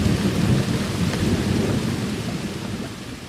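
Steady heavy rain pours with a low rolling rumble of thunder underneath, a dense continuous wash with no voices.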